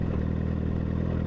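Honda CBR1000RR SP1 sport motorcycle on a ride, its engine giving a steady, loud, close low drone with a throbbing hum and no talk over it.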